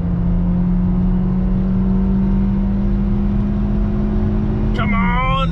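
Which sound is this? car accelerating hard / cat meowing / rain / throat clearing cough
car accelerating hard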